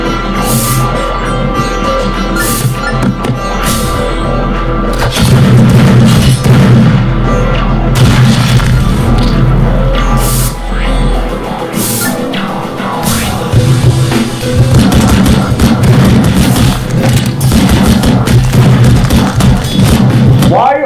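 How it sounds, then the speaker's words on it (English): Repeated heavy booms and thuds from flashbang grenades in the shooter game Project Nexus, loud and dense over a constant game soundscape, with voices talking throughout. "I was right about the flashbangs."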